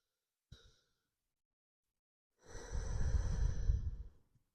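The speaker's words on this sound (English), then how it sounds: "Taking a few more deep breaths in your own time." Breathing during a guided yoga-style deep-breathing exercise: a brief soft sound, a pause, then a long, steady, close exhale lasting over a second and fading out, heard alone.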